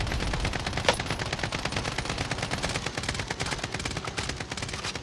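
Rapid automatic gunfire in the video game Call of Duty Cold War Warzone, a continuous dense rattle of shots with one sharper crack near the start, loud and steady throughout.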